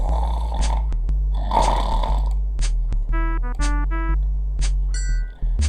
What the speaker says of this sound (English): There is some fairly loud snoring going on in this room.